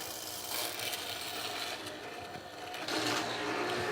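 Mortiser machine cutting mortises into wood for a bed footboard, a steady close mechanical chatter and grinding with slight surges partway through, alone with no talk.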